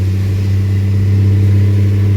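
A steady, low engine drone runs throughout, loud and close, with a constant rumbling hum and slight swells like a truck engine being revved.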